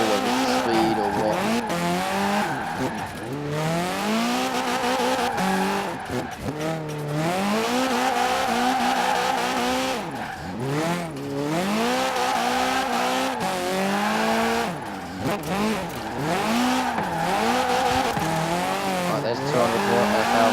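Ford Capri drifting in Forza Horizon 4, engine revving and wavering continuously with tire squeal swelling in and out throughout, loud and close, with the engine pitch sweeping up and down between drifts.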